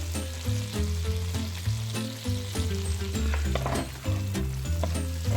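Cardamom pods and other ingredients roast and sizzle in a non-stick kadai for makhandi halwa. The frying is steady and close, with occasional stirring scrapes and no voices.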